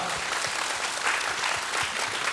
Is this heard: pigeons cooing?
no